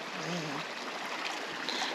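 Stream water rushes and burbles steadily near a waterfall at Asgard Falls in Yellowstone, a broad, continuous hiss of flowing water close by, with no clear voices over it.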